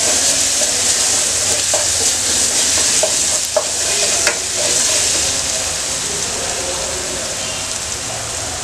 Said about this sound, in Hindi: उसके बाद हम इसमें लहसुन डालेंगे। ठीक से मिक्स कर लेंगे।